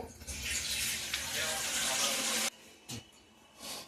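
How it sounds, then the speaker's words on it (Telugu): Water runs and splashes steadily into a bowl for a few seconds, then stops, followed by a couple of brief clinks and a short faint trickle. "ఇందులో వేసి వాటర్ పడుతున్నాను కొన్ని"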